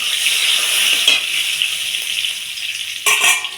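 Cumin seeds and bay leaves sizzle in hot oil for fish curry, a bright, continuous frying hiss with brief louder crackling bursts as the spices hit the pan, close by.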